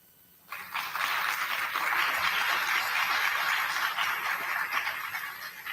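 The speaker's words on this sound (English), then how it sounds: "a round of applause for my cadets" Applause for cadets at a JROTC awards ceremony starts abruptly after a quiet moment and swells into a steady, fairly distant wash of clapping from a crowd, continuing evenly to the end.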